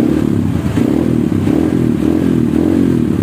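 A Honda CRF motorcycle fitted with a stainless steel header and aluminium muffler idles and revs at an exhaust workshop, a steady loud burbling engine note with slight rises in pitch.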